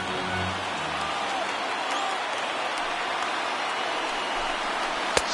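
A crowd of over 39,000 fills a baseball stadium in MLB 19, a dense, steady roar of cheering and applause, with a brief commentator voice early on and a sharp crack near the end.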